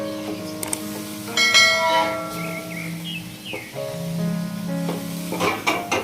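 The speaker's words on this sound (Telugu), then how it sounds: "తిప్పుకుందాం బాగా, ఈ పూల్ మకానాని చక్కగా తిప్పుదాం కలిసేలాగా అన్నీ." Phool makhana curry is stirred in a pan with salt, chili and masala, giving soft scraping and light sizzling alongside ringing tonal sounds, close and moderately loud.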